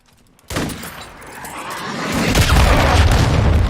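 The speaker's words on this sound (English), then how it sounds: "Hostile cruise missile launched." A hostile cruise missile launches in a combat video game: a sudden loud boom after a brief quiet, then a rumbling, crackling roar that swells and stays heavy to the end.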